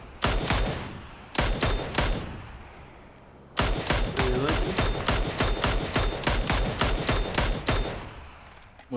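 Rapid bursts of gunfire in the battle-royale game PUBG, several sharp volleys in quick succession with brief pauses between, loud and close, dominating the mix.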